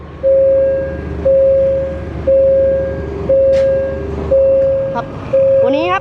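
Repeated steady electronic warning tones pulse in a regular on-off rhythm from a railway crossing barrier in U Thong, Thailand, as it lowers, over a low rumbling background with a brief rising chirp near the end.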